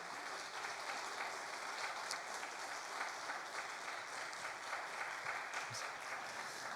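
A church congregation applauds a newly registered family, steady sustained clapping from many hands filling the room, fairly soft and even throughout with no voices over it.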